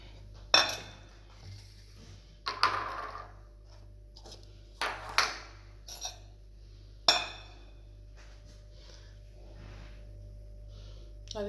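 A metal casserole pot clanks and clinks several times as it is fetched and handled in a kitchen, a few sharp knocks spread apart over a low steady hum.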